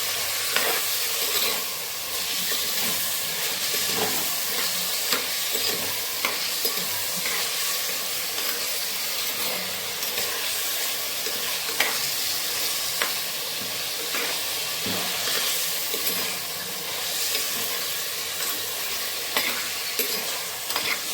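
Green chicken curry with green chilies sizzles steadily in a hot pan, a dense continuous frying hiss broken by frequent light scrapes and clicks of stirring, close and constant throughout.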